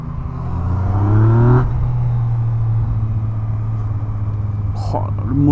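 A 2021 Yamaha MT-09 SP motorcycle on its stock exhaust, its engine rising in a short rev, then settling into a steady, fairly close drone, with faint voices over the end.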